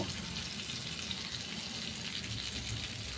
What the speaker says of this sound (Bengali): আমি এক মিনিট মতো নাড়াচাড়া করে মিডিয়াম ফ্লেমে একটু ভেজে নেব আমগুলো